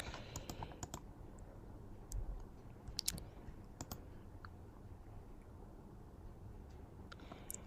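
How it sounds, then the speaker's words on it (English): Computer keyboard typing and mouse clicking at a desk, faint scattered keystrokes and clicks in short bursts with quiet gaps between, nearby but soft. "I'm going to click on T on my keyboard and I'm going to type shop now"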